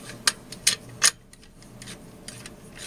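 Through bolts being loosened on a Pentair Whisperflo pool pump, three sharp ratcheting rasps in quick succession, followed by softer faint scraping and turning, close up.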